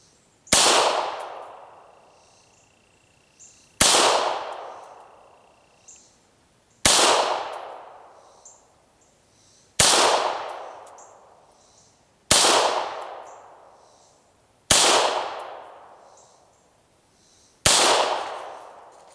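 Beretta 92FS pistol fired in single action outdoors: seven loud, sharp shots spaced roughly every three seconds, each with a ringing decaying tail and quiet gaps between.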